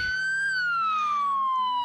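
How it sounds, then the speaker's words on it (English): A wailing police siren in a Roblox video game sweeps slowly downward in pitch, loud and close, with a low engine hum underneath. "you hear me with my siren, and I have my lights on."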